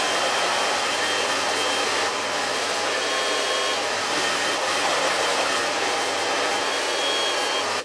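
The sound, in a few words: hair dryer blow-drying hair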